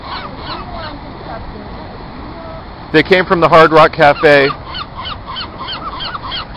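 Seagulls squawk in a loud, close burst of overlapping harsh calls while fighting over thrown french fries, with talk and background chatter before and after the frenzy.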